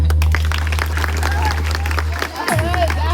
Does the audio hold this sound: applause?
yes